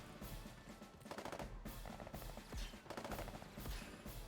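Units in the turn-based strategy game Advance Wars open fire in several short rattling bursts of repeated shots, moderately loud against quieter game background.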